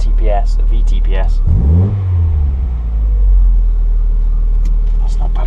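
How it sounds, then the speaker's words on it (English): A Mazda MX-5 engine running on a standalone ME221 ECU revs up once with a loud rising and falling sweep, stumbling a little, then settles back to a steady idle rumble; brief speech comes before the rev. "If you can get the accelerator, you can hear it. It does stumble a bit."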